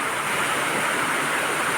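Rainwater rushing during heavy monsoon rain in a village, a dense, steady roaring wash of water that stays constant and loud throughout.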